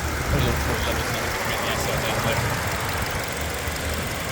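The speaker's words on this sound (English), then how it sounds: "Very quiet motor." A 2020 Kia Cerato S hatchback's engine idles with a low, steady hum, quiet and constant with a soft mechanical rumble and no change in pitch.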